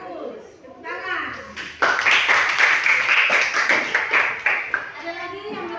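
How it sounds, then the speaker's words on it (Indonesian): Applause and clapping from a group break out after a brief stretch of voices, continuing steadily and fairly loud for several seconds. "Tepuk tangan."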